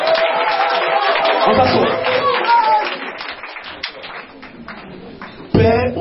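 Congregation clapping and acclaiming God during a church teaching, scattered claps mixed under a preacher's loud voice, with a sharper burst of noise near the end.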